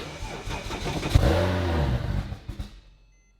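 A Porsche 911 Turbo engine cranks over and fires, its rough start rising into a loud, close revving roar that then fades off toward silence at the end.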